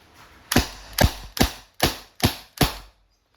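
An Umarex T4E TR50 tactical airgun revolver fires six sharp, evenly spaced shots, each a loud close crack with a quick decay, then quiet.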